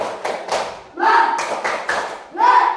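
A class of schoolchildren performs the rhythmic "tepuk semangat" cheer clap, bursts of hand claps in a patterned beat mixed with children's chanting voices, fairly close and lively.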